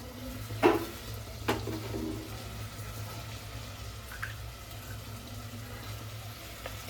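Kathiyawadi undhiyu vegetables with garlic, coriander-cumin powder and turmeric fry in a pan while being stirred, a soft steady sizzle broken by a few sharp scrapes and clinks of the spoon near the start.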